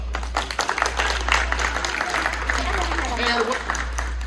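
An audience applauds a volunteer at a magic show during a birthday celebration in East Lansing, Michigan: steady, moderately loud clapping fills the room for several seconds, with voices mixed in and a low hum underneath.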